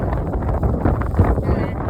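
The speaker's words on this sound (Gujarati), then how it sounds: "પવન વધી ગયો." Strong wind roars and buffets the microphone steadily, a dense low rumble with no break.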